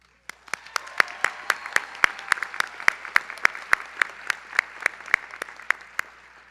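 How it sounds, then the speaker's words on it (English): Sharp, evenly spaced claps ring out at a graduation ceremony, a brisk rhythmic patter of only a few hands, close and distinct rather than a full crowd roar. "Join me in a warm round of applause for Nodar Kipshidze and Catherine LaPuente"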